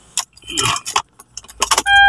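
Keys to a 2014 Hyundai Tucson jangle in short metallic bursts close by, followed by a steady electronic chime as the ignition comes on.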